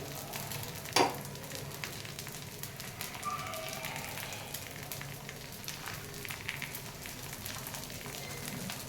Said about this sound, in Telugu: ఈ దోశని మనం పైన కూడా ఇలా ఆయిల్ రాయాలండి